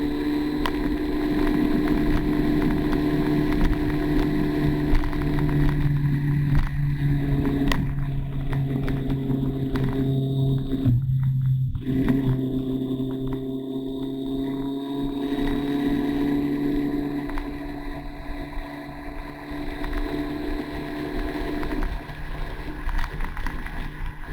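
Motorcycle engine drone on a West Mercia Police BikeSafe ride near Redditch, accelerating out of a bend onto a fairly straight road; a steady, loud engine tone with wind roar runs continuously throughout, rising in pitch as the throttle opens.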